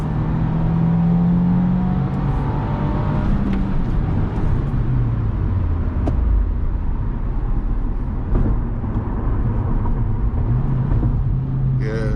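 A 2023 Subaru WRX Limited pulls in third gear on a night drive, its steady engine drone and road rumble heard from inside the cabin, rising slightly in pitch as it accelerates.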